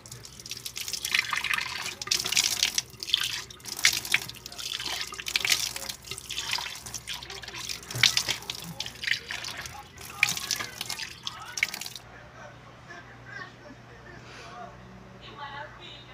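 Water from a home shower runs in a steady, hissing rush with dripping and splashing for about twelve seconds, then cuts off to near quiet.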